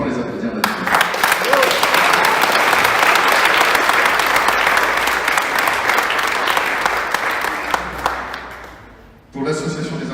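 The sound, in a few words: audience applause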